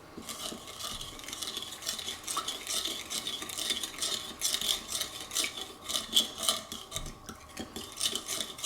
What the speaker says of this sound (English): give that a little bit of a stir so that the sugar is worked into it